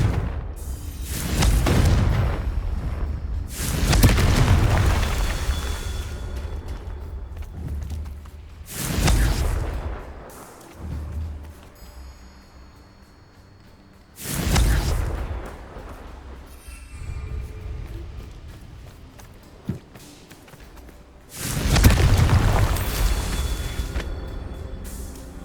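Confringo blasting spell explosions in the video game Hogwarts Legacy: five loud, booming blasts a few seconds apart, each a sharp burst trailing into a rumbling decay, with no talking between them.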